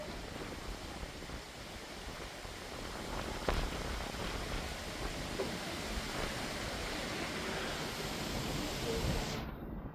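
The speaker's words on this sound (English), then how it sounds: "It's raining. Here comes the rain." Rain falls in a windy thunderstorm as a dense, constant hiss that stays even and fairly faint throughout, with one brief knock partway through.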